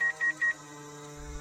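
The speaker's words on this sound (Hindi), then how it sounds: "फोन मिलाने लगी" Three short, evenly spaced keypad beeps sound as a mobile phone number is dialed, followed by a quiet low hum in a Hindi horror story drama.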